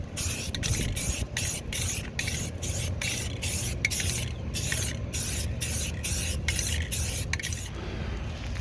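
Aerosol can spraying flat white primer-and-paint onto 30-year-old box truck doors in a parking lot, a series of short hissing bursts repeated in a steady rhythm, close and loud.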